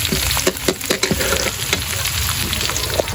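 Food sautéing in a pan for a Filipino fiesta dish, giving a loud, close, continuous sizzle dotted with sharp crackles and pops.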